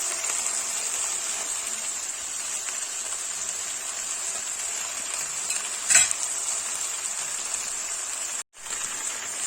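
Steady, dense sizzling of chicken pieces frying in a hot pan, continuous and close, with a brief clink midway and a short drop-out near the end.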